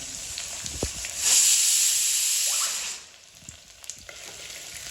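Onions sizzle loudly in a hot frying pan, a bright steady hiss that swells for a moment and then settles back to a quieter crackle.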